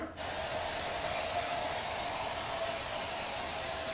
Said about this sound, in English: Then I'm going to spray a little bit more.